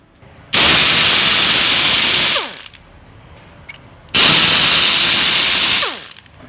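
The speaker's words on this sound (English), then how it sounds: "When you've got 33 bolts to undo with an air ratchet, you need blimmin' ear protection." Air ratchet undoing bolts on a 2L diesel Ford Mondeo Mk5 during timing chain work: two loud, sustained buzzing bursts of about two seconds each, separated by a brief pause, with no talk.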